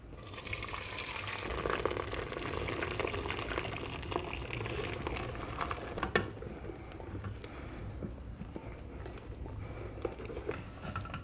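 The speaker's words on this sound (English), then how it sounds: "So we can go ahead and take them out of the water." Boiled potatoes being drained through a strainer, a steady rushing pour of hot water that spatters and patters for several seconds before tapering to a lighter trickle.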